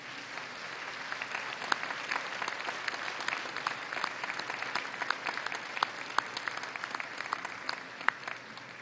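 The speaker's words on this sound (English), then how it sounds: "give them a round of applause for the love and support that made this day possible" Graduates at a spring university convocation ceremony applaud their families and friends, a steady, distant-sounding roll of many hands clapping, with individual sharper claps popping out from the crowd throughout.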